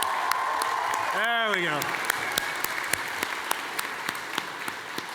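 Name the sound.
audience applause at cosplay competition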